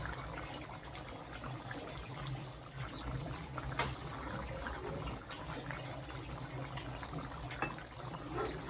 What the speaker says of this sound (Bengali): এখানে তরকারিটা আমার খুব সুন্দরভাবে ফুটছে।